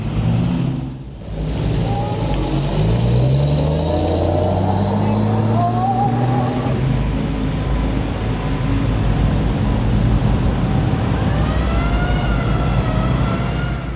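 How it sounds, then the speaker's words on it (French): A convoy of military vehicles rolls toward a war memorial during an armistice commemoration, with loud, close engine rumble and revving that shifts pitch as the vehicles pass, continuous throughout. "Un cortège de véhicules militaires appartenant à l'association Fench Militaria s'est ensuite dirigé vers le monument aux morts."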